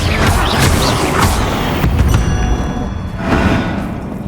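Bombarda blasting spells go off in Hogwarts Legacy, a run of loud heavy thuds and crashing booms spread over several seconds, with a second surge of impact near the end.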